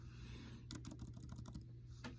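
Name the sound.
typing on a computer keyboard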